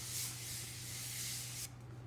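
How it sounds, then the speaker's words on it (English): A hissing spray of H2O Beauty Oasis Quench the Day hydrating face mist, a steady, close, continuous mist for about a second and a half before stopping abruptly. "This is by H2O Beauty, the Oasis Quench the Day Hydrating Mist."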